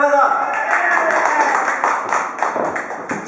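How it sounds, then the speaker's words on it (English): Audience at a stand-up comedy gig applauding in a steady burst of clapping lasting a few seconds, close and loud, after a voice briefly speaks at the start. "Another round of applause for Philip Tawerna."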